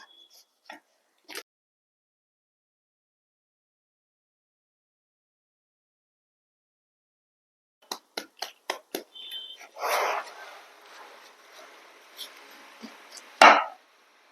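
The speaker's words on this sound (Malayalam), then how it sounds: "ഇനി നമ്മൾക്ക് ചെറുതാക്കി എങ്ങനെ അരിഞ്ഞു കൊടുക്കാം" A knife chops young, not fully ripe jackfruit into small pieces in quick bursts of crisp close taps after a long quiet stretch, with scraping and a loud final thud.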